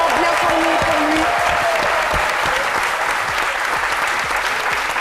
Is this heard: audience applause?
yes